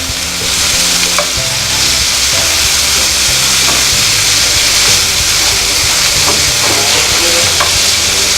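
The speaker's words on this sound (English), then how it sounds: "Grab your tomato, throw that in there." Chopped tomato sizzles and fries steadily in a hot pan for a tortilla pizza topping, a loud continuous crackle with occasional stirring scrapes and no voices.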